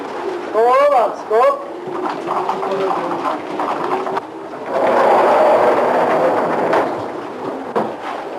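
Racing pigeon hens come into the loft after a training session, with soft cooing and a flurry of wingbeats and shuffling nearby, while a narrator talks over much of it.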